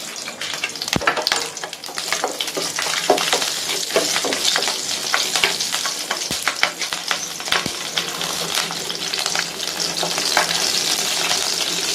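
Slit green chillies frying in hot oil for a sesame gravy make a loud, close, crackling sizzle with frequent popping spatters and stirring, continuous throughout and without talk.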